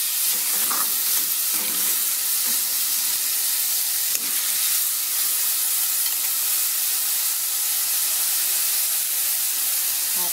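Steady sizzling and crackling of pounded tamarind leaves and pork stir-frying in a hot pan, continuous and fairly loud, with occasional light scrapes as it is stirred.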